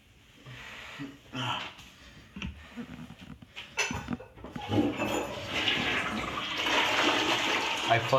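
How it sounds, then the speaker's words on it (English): Toilet being flushed, a rushing, gurgling swell of water that builds over several seconds and stays loud and close, with a few small knocks and handling noises before it. "I flushed the toilet with my toe."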